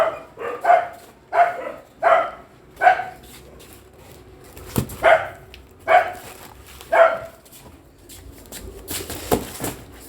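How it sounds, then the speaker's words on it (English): Dogs barking in a steady series of about seven loud, evenly spaced barks, followed by a few sharper knocks and thuds, with no one talking. "So dogs were barking, I didn't hear."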